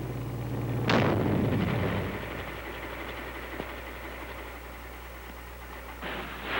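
A bazooka rocket launches with one sharp, loud blast that trails off into a long fading rumble, then a faint rising noise near the end.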